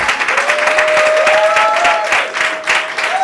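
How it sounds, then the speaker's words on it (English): Loud applause fills a real estate event as the audience gives a standing ovation, with a crowd of hands clapping close by, a few cheers and whoops rising over it, and the clapping swelling again near the end. "With a round of applause, with a standing ovation."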